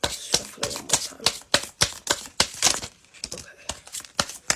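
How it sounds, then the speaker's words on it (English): Tarot cards being shuffled by hand, a quick run of sharp riffling and snapping bursts in an uneven rhythm, close and fairly quiet. "Shuffle it one more time."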